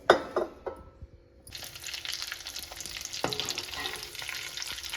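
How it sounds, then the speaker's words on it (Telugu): Mustard seeds, garlic, curry leaves and dried red chilies crackle and sizzle in hot ghee, starting with a few sharp pops, then a steady, close frying hiss with occasional stirring scrapes. "నేను నేతితో తాలింపు పెడుతున్నాను"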